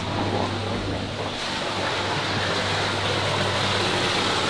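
Water rushes through a newly opened ball valve in a home plumbing line, a steady loud hissing, roaring flow that holds constant throughout with no talking.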